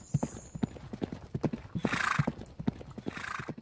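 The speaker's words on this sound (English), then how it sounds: "Is that another horse in that house?" Horse hooves clip-clop in a steady, fairly close rhythm inside a house in a War of the Worlds fan video game, with two short bursts of a horse's whinny or snort breaking in over the hoofbeats.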